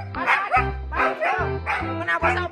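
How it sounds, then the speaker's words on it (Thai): Dog barking at night, around eight in the evening: a loud, close run of four sharp barks with short yips between them, fairly evenly spaced and with no clear human voice over it. "เห่าทำไมเห่าทำไมเห่าทำไม"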